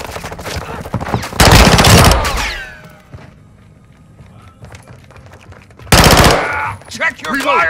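Automatic weapon fire in Call of Duty: Modern Warfare II team deathmatch, two loud sustained bursts of rapid gunshots separated by a quieter stretch, followed by metallic clinks and scattered effects.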